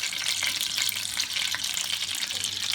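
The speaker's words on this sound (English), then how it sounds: "make sure you get a bit of the sizzle when the meat hits the pan." Steady, crackling sizzle of schnitzel frying in olive oil in a hot pan, a continuous hiss with no voices.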